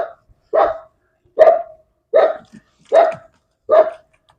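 A house dog barks six times in an even, unhurried rhythm, each bark sharp and fairly close, with quiet pauses between them outdoors.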